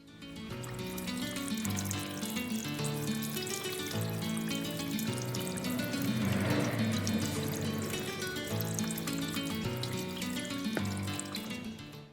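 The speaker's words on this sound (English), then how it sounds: "Pour clean water into the top radiator hose and you will observe dirty fluid being flushed out" Clean water pours steadily into the top radiator hose of a Proton Gen 2 during a cooling system flush, a continuous close splashing and gurgling flow that runs unbroken throughout.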